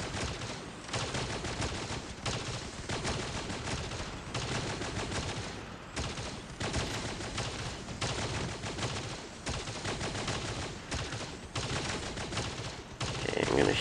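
Rapid video-game gunfire rattles in dense, continuous bursts with brief pauses, loud and close, over a mix of game sounds.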